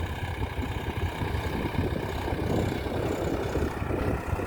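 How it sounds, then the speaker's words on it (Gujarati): A Swaraj 855 tractor's diesel engine runs steadily while cultivating a field, producing a loud, continuous low rumble with a rough mechanical chug close by. "ટ્રેક્ટર ને લોડ ન પડે કાંઈ"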